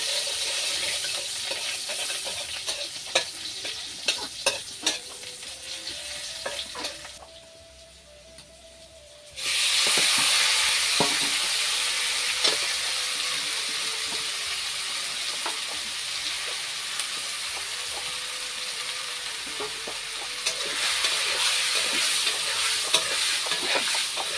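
Onion paste frying in a pan for a Noakhali-style fish curry, with a continuous loud sizzle and repeated spoon scrapes and clicks, a brief quieter lull midway, then the sizzle surging back.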